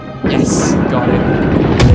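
Naval gunfire strikes the player's ship in World of Warships, a heavy boom hitting hard and close followed by a rumbling blast tail and a second sharp impact near the end, with a voice underneath.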